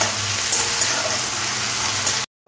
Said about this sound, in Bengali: আদা রসুন বাটাটাও ভালো করে আর টমেটো পেঁয়াজের সাথে কষে নিতে হবে।